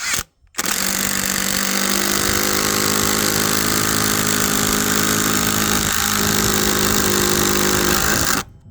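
A 12V impact driver sinks a 160 mm, 6 mm screw into a spruce stump, loud rapid hammering rattle running nearly eight seconds without a break after a short start-up pause, then stopping.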